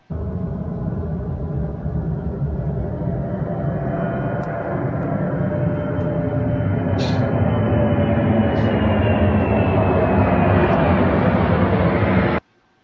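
A B-2 stealth bomber lands in Qatar, its jet roar loud and sustained for about twelve seconds before cutting off abruptly.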